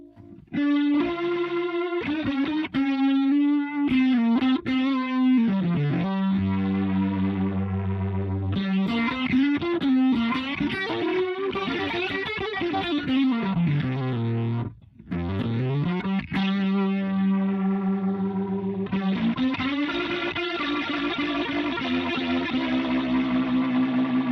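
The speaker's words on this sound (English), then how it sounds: "Mode number 3 has the most drive, the most distortion." Electric guitar through a Boss RT-2 rotary ensemble pedal in mode 3, its heaviest drive and distortion setting, played dry through an amp: sustained overdriven chords and bending lines swirl steadily and loudly, with one brief gap near the middle.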